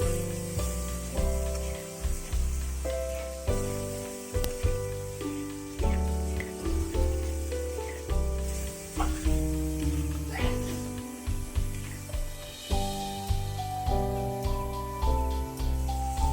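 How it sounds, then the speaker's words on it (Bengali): Spice paste, loosened with a splash of grinding-stone rinse water, sautés in a pan for a fish curry, a constant sizzle heard beneath steady, looping background music. "অল্প একটু দিয়ে মশলাটা আমি কষাচ্ছি"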